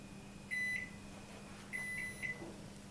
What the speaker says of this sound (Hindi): अभी हम माइक्रोवेव यूज कर रहे हैं पावर 30